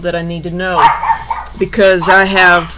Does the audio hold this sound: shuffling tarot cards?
no